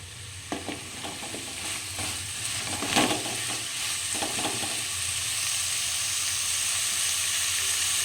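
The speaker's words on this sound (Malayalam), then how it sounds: "അഞ്ച് മിനിറ്റ് ഇളക്കി കൊടുക്കാം സവാളയും തക്കാളി പച്ചമുളക് എല്ലാം ഒന്ന് വാടിയിട്ടുണ്ട്" Onion, tomato and green chillies fry over medium heat as a spoon stirs through them, a few scraping strokes early, then a steady hissing sizzle that swells and holds, with no talk.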